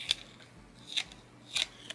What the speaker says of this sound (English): where the scoring line is, I'm going to just do a back fold